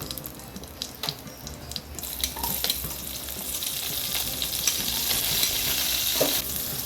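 Cumin seeds and spices crackle and sizzle in hot oil, building into a steady loud hiss with scattered pops and a few clinks.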